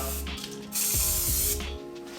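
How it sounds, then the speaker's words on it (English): A short hissing burst from an aerosol can of Fluid Film sprayed into a cup, nearby, with a few faint mechanical clicks around it. "I spray some fluid film in this cup"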